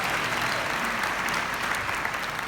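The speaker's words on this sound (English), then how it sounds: "Clap your hands" A crowd of invited guests claps steadily at a public gathering for the Ignite Mentorship Initiative, a dense, continuous wash of applause holding at even loudness throughout.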